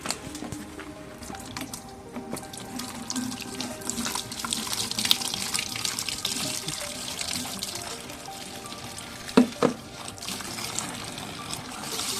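Water runs and pours into a container as shampoo is mixed in for washing a Honda CD100 SS motorcycle, a steady splashing, sloshing flow close by with a couple of louder knocks near the end.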